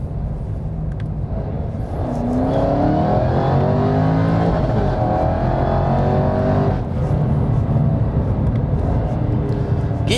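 A Jaguar XE SV Project 8 four-door sports saloon accelerates hard at full throttle on an open road. The engine note rises steadily through the revs, loud and continuous, with a deep rumble underneath and no talking.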